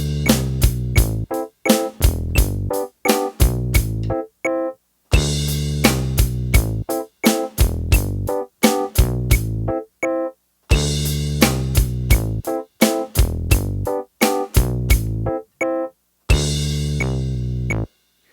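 Drum beat of a song played along with the track, a steady, punchy groove of kick, snare and hi-hat hits over a tonal backing, in repeating phrases with brief breaks between them, close and clear.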